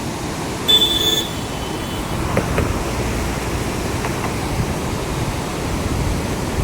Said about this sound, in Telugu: ఎంత ఫ్లోలో వెళ్తుందో వాటర్